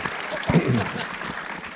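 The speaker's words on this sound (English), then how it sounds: "Can we clap for that?" A small audience at a commercials directors' nominee panel gives a short burst of clapping, brief and moderately close, mixed with talk.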